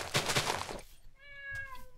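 A cat meows in the Minecraft video game, heard as one clear, close, rising meow that comes alone after a burst of noisy game sound.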